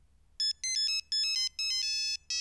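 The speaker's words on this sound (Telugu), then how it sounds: "ఫోన్ రింగ్ అవుతుంది." A mobile phone rings indoors with a loud electronic ringtone, bursts of bright beeping tones repeating in a quick rhythm. A low hum sits underneath.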